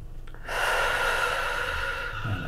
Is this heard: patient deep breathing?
yes